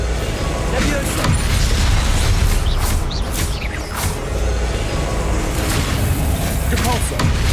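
A Levioso spell cast in Hogwarts Legacy, heard as a dense, loud burst of magical whooshes and booming effects over a continuous rumbling game soundscape, with a voice present.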